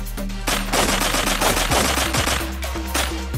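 Rapid automatic gunfire from an MP7 or XM8 in the blocky shooter game Blockpost, a loud, continuous rattle of shots running through the whole stretch over a low game hum.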